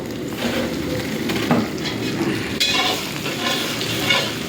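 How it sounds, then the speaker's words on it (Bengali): Onion, tomato and green chilli sizzle steadily in a pan as they are stirred, with scraping of a utensil against the pan, during cooking of goat meat; close and continuous, with no talk. "দেখুন কি সুন্দর ভাজা হচ্ছে এবার টমেটো আর ওই কটা কাঁচা লঙ্কার মধ্যে দিয়ে দেবে একটু নেড়ে দাও"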